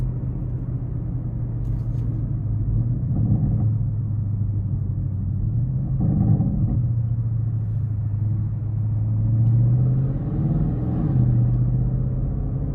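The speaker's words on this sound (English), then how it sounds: "And the spool of the turbos is fantastic as well. It's just a really nice sound." A 2021 Audi RS6 Avant drives with its turbos spooling, a steady low engine rumble heard from inside the cabin that swells gently a few times, with no talk.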